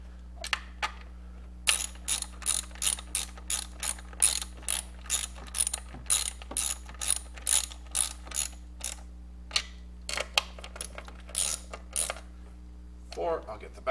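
A ratchet wrench clicks in quick repeated bursts, snugging down engine bolts during a valve spring job on a GM LS6 V8, fairly close with steady pauses between strokes and no talk.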